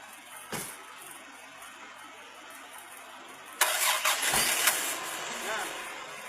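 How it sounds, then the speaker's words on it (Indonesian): A car with a weak battery cranks and fires up after a jump-start, a brief click followed by the engine catching and settling into a steady idle, with faint background noise. "Kemudian kita coba lakukan starter pada mobil yang ini."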